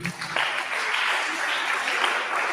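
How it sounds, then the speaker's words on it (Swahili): Audience applause at a girls' school biology contest after a presentation, a steady dense wash of clapping from many hands that swells in quickly and holds. "Mpigie makofi."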